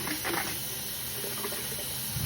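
Water runs steadily from a tap into a sink, rinsing washed dishes and baby bottles, with a soft, even hiss, fairly faint and without talking.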